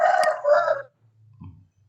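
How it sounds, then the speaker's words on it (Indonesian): A chicken clucks nearby during an online class session, a few loud throaty clucks in quick succession followed by fainter low calls, with no talking. "Siapa punya ayam itu?"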